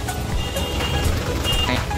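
A minibus pulls up while its reversing alarm beeps in a steady, evenly spaced pattern, set against a constant engine rumble and traffic noise from the street.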